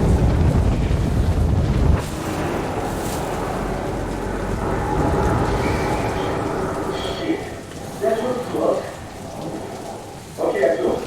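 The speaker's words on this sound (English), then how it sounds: "The storm must be driving them." Thunderstorm in the video game Metro Last Light: heavy rain hiss and deep rolling thunder rumbling across the scene, with brief voices and game sounds breaking in toward the end.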